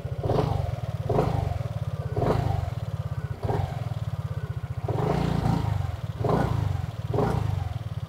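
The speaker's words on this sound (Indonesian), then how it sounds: "Kita dengerin dulu suara mesinnya" A Vespa GTS 150 scooter engine runs steadily at idle with a low, even putter, rising in a few periodic revs close by, with no talk over it.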